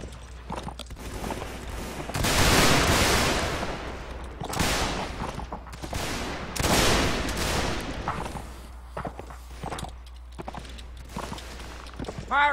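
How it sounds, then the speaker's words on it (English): Gunfire volleys crack out in Mount & Blade, with two dense, loud bursts of musket fire followed by scattered shots and clattering movement across a battlefield. "Firing by volley."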